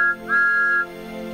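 A bright, sustained toy train whistle sounds twice, a short blast then a longer one, over a steady electronic hum.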